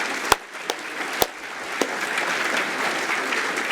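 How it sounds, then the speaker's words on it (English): An audience at the 2016 John Eales Medal rugby awards ceremony breaks into sustained applause, opening with a few sharp, loud individual claps before settling into a steady, full roar of clapping. "So a round of applause for our top 10."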